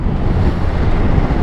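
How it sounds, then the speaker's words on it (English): Steady, heavy wind buffeting the microphone on a motorcycle, a constant low roar with no other sounds standing out. "On a windy day like today,"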